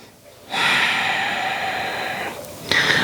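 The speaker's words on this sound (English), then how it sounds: "One more breath." A deep, audible breath is drawn during a yoga power flow, one long inhale-exhale lasting a couple of seconds, close and clear, followed by the start of a second breath.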